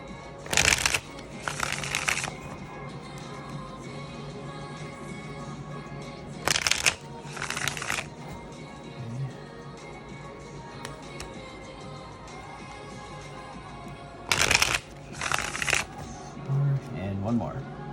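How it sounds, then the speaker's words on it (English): Cards are shuffled in three quick riffling bursts, spaced several seconds apart, with faint background music between them. "Just do a few shuffles."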